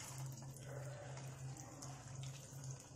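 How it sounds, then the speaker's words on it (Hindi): Mutton keema kebabs go into hot oil one by one for shallow frying, giving a steady, close sizzle with a low hum beneath it and no voices. "वो तेल हो चुका है गरम। अब हम इसमें एक एक करके कबाब डाल देंगे।"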